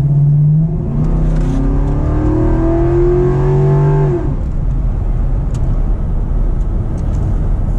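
A 1999 GMC Yukon with a swapped-in 5.3 V8 and stock exhaust revs up from idle, its engine note climbing and holding before dropping back to a steady rumbling idle, loud and close.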